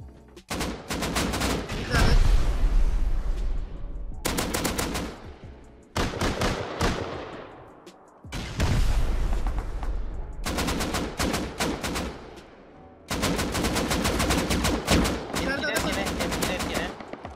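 Loud rapid automatic gunfire in the video game Rust comes in long bursts separated by short pauses, close and dominant, with a voice faintly underneath.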